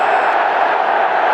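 Crowd roar at an AFL match between Geelong Cats and Gold Coast Suns, reacting to an umpire's free kick decision, a loud, sustained wash of voices from a large stadium audience.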